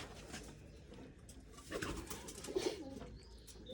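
Red-headed pigeons on a rooftop loft coo softly in low, rolling phrases, faint and somewhat distant against a quiet outdoor background with scattered small noises.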